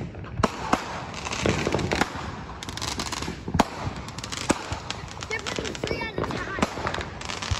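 Fourth of July fireworks and firecrackers go off in a rapid crackling barrage with several sharp bangs, loud and fairly close, while people talk over the bursts.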